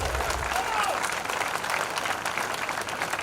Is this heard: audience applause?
yes